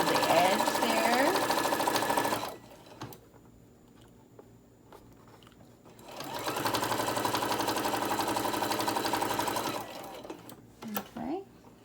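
A sewing machine stitches a tote bag strap close to the edge in two loud, steady runs, pausing briefly in between, with a few faint handling sounds after the second run.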